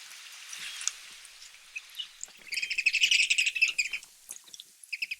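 Eurasian oystercatchers on a North Sea island beach give excited high trilling and piping calls, a fast run of bright notes swelling in the middle and repeating toward the end, fairly faint against quiet background.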